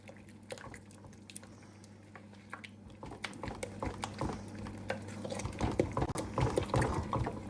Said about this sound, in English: Give it a lovely stir.